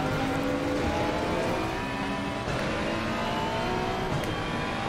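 A GT race car engine in Assetto Corsa, GT World Challenge content, pulls hard under acceleration with a steady, loud, whining drone and rising harmonics that hold throughout, with no talk.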